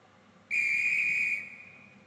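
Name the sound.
train guard blowing whistle before closing doors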